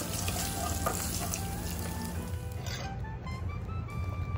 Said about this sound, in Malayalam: വേറൊരു പാനിലേക്ക് 2 ടേബിൾ സ്പൂൺ നെയ്യ്, അതിലേക്ക് തേങ്ങാക്കൊത്തും അണ്ടിപ്പരിപ്പും ഇട്ട് വറുത്തെടുക്കാം